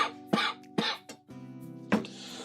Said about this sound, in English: I start coughing if I get really excited